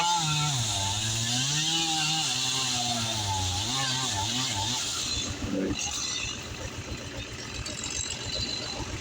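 A small chainsaw engine runs loudly and close while cutting diseased trees for firewood, its pitch rising and falling as the throttle changes, then settling into a rougher, rattling idle.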